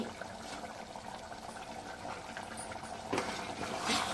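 Quiet, steady bubbling of gravy simmering in a pot, soft and continuous, with a slight swell near the end.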